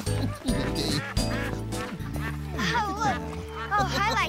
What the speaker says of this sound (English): One, two, three ducks.